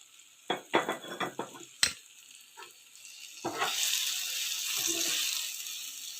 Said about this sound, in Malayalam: എന്നിട്ട് നന്നായിട്ട് ഇളക്കുക.